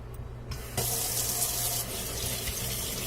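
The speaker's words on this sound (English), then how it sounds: "always remember, wash them with cold water, not hot water" Cold tap water runs steadily into a sink as tomatoes are washed, a close, continuous splashing rush that begins abruptly and fills the whole clip with no talk.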